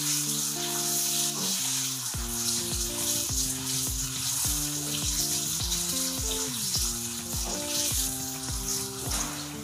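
Chopped tomatoes drop into a hot pan with roasted chillies while chole curry is cooked, giving a loud, steady sizzle of frying with occasional stirring. Tonal background music plays underneath.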